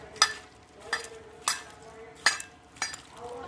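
Chicken being mixed with tomato sauce for chilli chicken, giving five spaced clinks and scrapes of a spoon against a bowl, close and fairly quiet with no talk.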